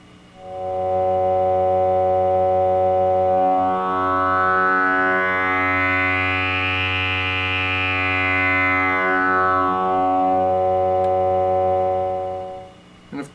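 A sustained tone from a Buchla Music Easel analog synthesizer whose timbre is swept by sliders, harmonics brightening into a broad arc and then fading back over a steady drone, with no voices.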